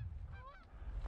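Canada geese honk overhead as a flock comes in to land over a hunting spread, several short nasal calls rising and falling in a brief burst against steady low wind rumble.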